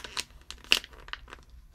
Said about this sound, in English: It's in this plastic bag.